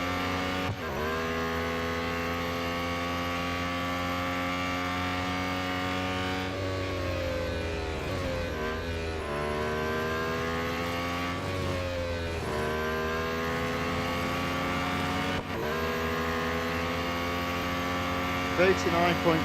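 A race car engine drones steadily with shifting revs and tire skids in the Real Racing 3 mobile racing game, a continuous loud mechanical hum with someone talking over it.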